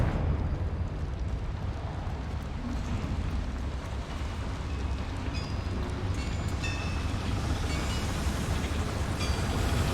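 A Confringo fire spell in Hogwarts Legacy erupts as a dense, rumbling burst with crackling texture, sustained and fairly loud, while small bright chimes and effects flicker on top.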